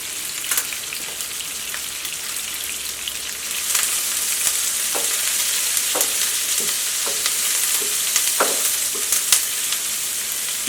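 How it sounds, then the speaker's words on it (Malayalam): Sliced onion, curry leaves, ginger, garlic and green chilli sizzle in hot oil for a spicy sardine masala, a steady close crackle and hiss with scattered sharp pops and stirring clicks, no talk. "ഇപ്പോൾ ഓയിൽ നന്നായിട്ട് ചൂടായിട്ടുണ്ട്. ഇനി ഇതിലേക്ക് സവോള ചേർക്കാം."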